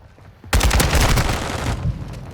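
AK rifle firing in Modern Warfare II, a sudden sustained burst of rapid, loud automatic shots starting after a brief quiet moment, close and punchy.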